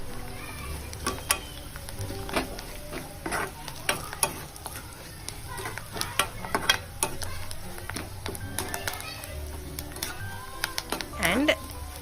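Poha being stirred in a pan with turmeric and salt, a run of irregular scraping and clinking strokes under a soft sizzle, close by, with a voice talking intermittently and faint background chatter.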